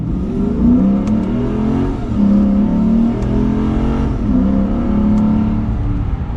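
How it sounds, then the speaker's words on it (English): A 2022 Lexus IS 500 F Sport Launch Edition V8 in Sport Plus mode accelerates hard from first gear. The loud, continuous engine note climbs steadily through the revs, with brief dips at the shifts. "It has that good V8 noise to it."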